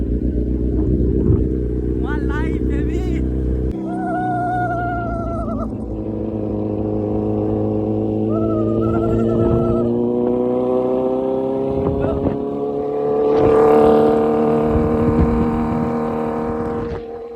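Superbike engine revving loudly on a street, a rising and falling motor whine with harmonic sweeps that climbs strongly toward the end, close and dominant, with voices talking over parts of it.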